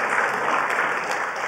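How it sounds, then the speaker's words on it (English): A talk audience gives a speaker another round of applause, dense continuous clapping from many hands, loud and close, filling the whole moment with no voices over it. "Another round of applause for Jalila for the talk."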